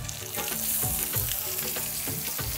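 Onion sautés in a pan for dragon chicken, a loud close sizzle broken by regular scraping stirs of a spatula, with no one speaking.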